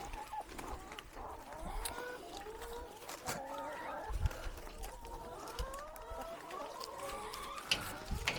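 Chickens on a farm in Chiang Rai, Thailand cluck and chatter repeatedly in a quiet outdoor setting, with soft background noise and faint, scattered sounds throughout.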